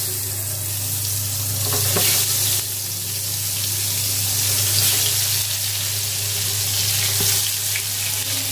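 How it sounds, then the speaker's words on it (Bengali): Cut eggplant (brinjal) pieces fry in hot oil in a home kitchen, giving a loud, steady sizzle over a low hum with occasional soft crackles, and no talking. "বেগুন ভাজি করব।"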